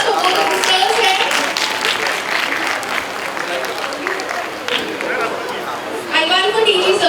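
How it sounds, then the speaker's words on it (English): An audience at a college NAAC celebration gives a round of applause, steady dense clapping mixed with chatter and a few voices, swelling again near the end. "Can we have a round of applause for both of the sirs here?"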